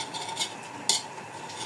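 A spoon stirs menudo cooking in a pot, a soft continuous scraping with two brief metallic clinks, faint sizzling underneath, close and quiet.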